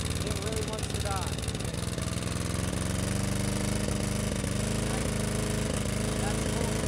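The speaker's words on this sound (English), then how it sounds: "That's full throttle." Hydrolocked lawnmower engine held at full throttle, a loud, steady, rough drone with uneven sputtering that carries through the whole stretch, close to the mic.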